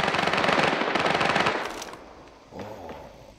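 Machine gun fire in the shooter game Badlanders: a loud, rapid burst of close shots for about a second and a half, then fading echoes and a short, fainter clatter.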